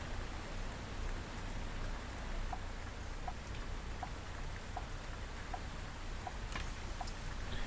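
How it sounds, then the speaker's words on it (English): Rain falls as a steady, even hiss of dense drops, with faint periodic ticks and no voices. It's heard outdoors while a remote-control Studio Polygon 400mm model is flown at a field. "It's raining."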